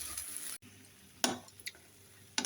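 Spice paste blended with spice mix and two tablespoons of tomato puree frying in a pan for a chicken and lentil curry, a soft steady sizzle broken by a few brief louder scraping bursts of stirring.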